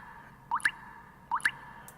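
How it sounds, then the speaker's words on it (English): Two soft water drips sound faintly over a low background hum, each a quick double plop, spaced under a second apart as the dripping slows. "The dripping slowly stops."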